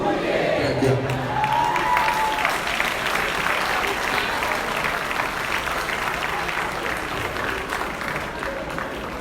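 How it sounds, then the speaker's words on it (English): Banquet crowd applauding at a hall of fame awards dinner, a sustained wash of clapping with some cheering that stays dense rather than settling into a clear rhythm, with voices audible under it. "When I say clap that up, you clap 3 times."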